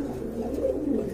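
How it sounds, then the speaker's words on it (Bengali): Tutā-shaped beauty pigeons with blue-bar colouring, kept on a farm, giving a low, continuous throaty coo up close with no talking over it. "একদম তুতা শেপের কবুতর"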